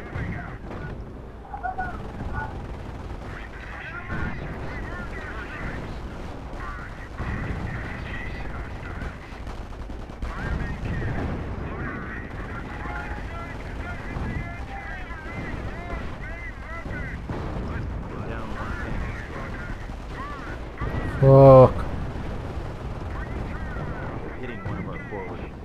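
Artillery bombardment and gunfire rumble through a Company of Heroes battle, a steady dense barrage with one sharp louder blast near the end, while someone talks over it.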